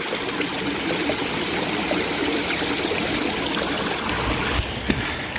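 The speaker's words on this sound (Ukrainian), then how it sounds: "такий водоспадик маленький." A small waterfall in a rose park trickles and splashes steadily, a continuous close wash of running water with no pauses.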